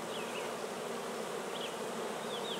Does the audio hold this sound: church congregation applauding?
no